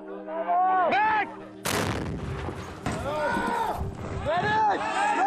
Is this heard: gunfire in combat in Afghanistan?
yes